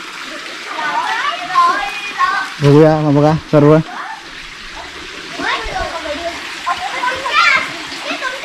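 Children splash, play and bathe in a farm well full of water, with bright kid voices and shouts mixed with water sounds, while an adult talks nearby in the foreground.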